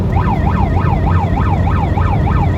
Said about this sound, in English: here's one siren